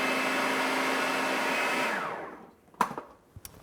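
A food processor whirs steadily while blending almond cake batter, its motor hum running for about two seconds before winding down, followed by a few sharp clicks and knocks.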